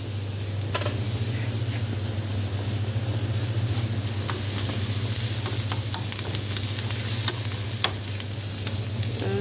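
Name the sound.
onions frying in hot oil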